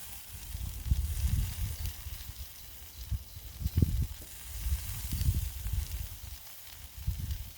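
Sausages sizzle on a barbecue aboard a boat, a soft crackling hiss rising and falling in gentle bursts, with low rumbling wind or water noise underneath.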